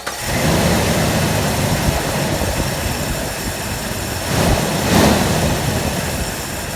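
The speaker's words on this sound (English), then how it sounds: "Got a nice smooth idle." A freshly tightened engine idles steadily and smoothly, a continuous close rumble with a slight swell near the end and no talk over it.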